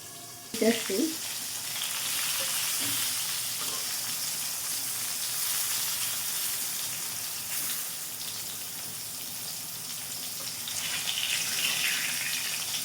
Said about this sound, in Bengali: আমি একটু ঢাইকে দিই, ঢাইকে দিলে একটু ভাজা হবে সুন্দর।